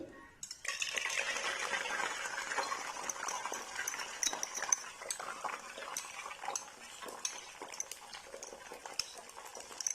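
Two beaten eggs hit hot cooking oil in a pan and sizzle steadily, with frequent clinks and scrapes of a spoon against the metal over the crackling fry.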